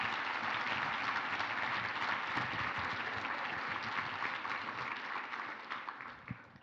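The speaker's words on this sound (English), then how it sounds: "can we please give another round of applause to our amazing speakers today?" Steady applause from a sustainability summit audience for the day's speakers, a dense, even wash of many hands clapping that holds for several seconds and then thins out toward the end.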